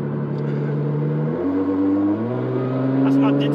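A tuned Nissan GT-R with a 1000+ hp engine revs in a sustained, loud droning note that steps up in pitch partway through, with a brief voice rising over it near the end.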